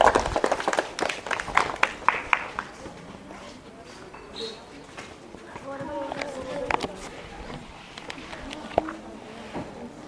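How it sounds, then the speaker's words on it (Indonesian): Classroom students clap their hands together in a brief burst of scattered claps, then the clapping fades out while a teacher keeps talking over the room. "Oke, boleh tepuk tangan."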